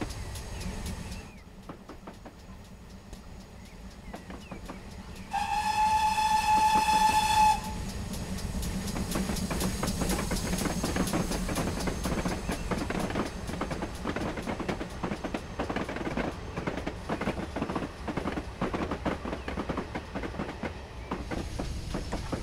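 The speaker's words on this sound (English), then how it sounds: "Nice liberal use of the whistle today. I'm enjoying it. I'm loving the sound" GWR Hall 4900 class steam locomotive in Train Simulator on the Falmouth Branch Line, with a loud steam whistle blast lasting about two seconds, then steady rolling chuffing and rail clatter.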